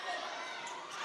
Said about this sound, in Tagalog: Crowd getting antsy.